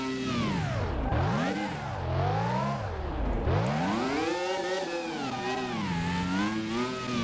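McLaren F1 LM engine in Car Mechanic Simulator 2018 revving hard and continuously, its pitch swooping up and down through repeated rises and drops, loud and steady throughout with no talking.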